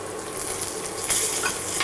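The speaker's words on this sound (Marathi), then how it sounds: "एकदा आपण परतून घेऊया." Turmeric, green chillies and curry leaves sauté in hot oil in a pan for a cabbage bhaji, with a steady close sizzle and a brief scrape of stirring partway through.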